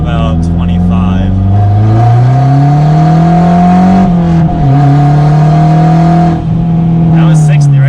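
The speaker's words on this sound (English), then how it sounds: "So let's do a second gear pull from about 25." A turbocharged Mazda Speed3 pulls hard in second gear from around 25 mph, its engine note climbing steadily and loudly from the cabin before a brief shift-like dip, then droning on at high revs, with no voices over it.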